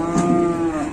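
A cow lowing with a loud, sustained moo that fills the brief moment, close by and steady in pitch.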